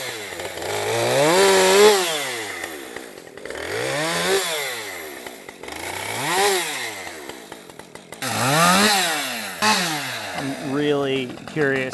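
A Husqvarna 562XP chainsaw revving hard through wood in repeated cuts, its engine pitch climbing and dropping with each pass, loud and close with brief idle gaps in between.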